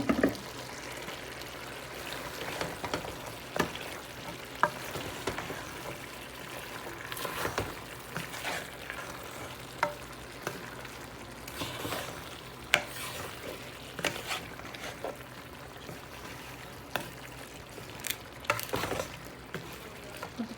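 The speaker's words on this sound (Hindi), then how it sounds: "हमें कीमा और शिमला मिर्चों को भूनते हुए तकरीबन 10 से 12 मिनट हो चुकी हैं" Minced chicken and capsicum frying in a pan while being stirred: a soft continuous sizzle under regular scraping strokes of a spoon, with sharper knocks against the pan now and then, close and steady, no voices.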